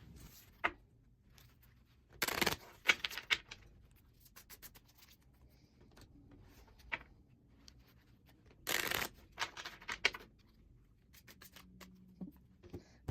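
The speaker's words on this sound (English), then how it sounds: "We'll get these shuffled up." Oracle cards shuffled in a few quick riffling bursts, crisp and close, separated by quiet pauses with small rustles.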